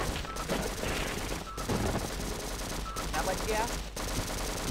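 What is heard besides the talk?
machine gun firing in video game Half-Life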